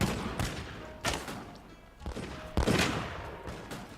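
Gunshots in the video game Mount & Blade: Warband, a handful of sharp cracks spaced irregularly over a few seconds, fairly quiet with a hissy background.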